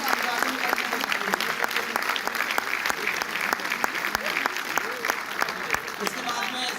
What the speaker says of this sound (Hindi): आप लोग बहुत अच्छी तालियां बजाइए भाई